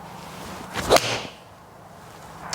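A single crisp strike of a Mizuno JPX923 golf iron on a ball cuts through with a brief swish, followed by quiet outdoor background and a faint tick.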